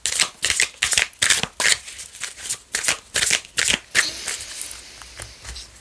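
Oracle cards are shuffled during a French fortune-telling reading, a rapid series of crisp, close riffling bursts in an uneven rhythm with no talking.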